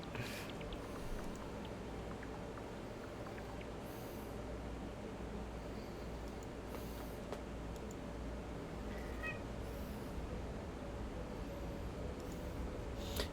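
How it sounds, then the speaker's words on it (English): Bean, a pet cat, meows several times at spaced intervals, fairly close and clear over a low, constant indoor hum. "I don't know if y'all heard him meow just a minute ago."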